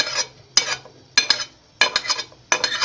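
Garlic ginger paste is stirred into a pan of frying minced meat and onions, with five distinct scraping strokes of a spoon against the pan at regular intervals over a soft background sizzle.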